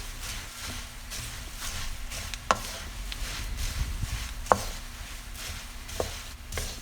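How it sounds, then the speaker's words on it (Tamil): Puffed rice tossed with fried garlic in a pan: a soft, steady rustle and scraping of stirring, with a few sharp clicks of the utensil against the pan and a low background hum, no talking. "சேர்த்துட்டு நல்லா மிக்ஸ் பண்ணிக்கலாம்."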